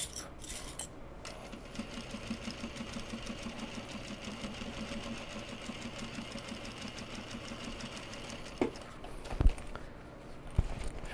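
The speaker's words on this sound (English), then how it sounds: "Just do this top stitching." A sewing machine top-stitches a Japanese fabric bag, a steady low whirring hum running continuously, fairly quiet and close, with a few sharp clicks and knocks near the end.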